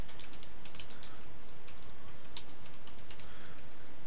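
Keys clatter on a computer keyboard as commands are typed, a quick irregular run of close, crisp clicks over a soft background hiss.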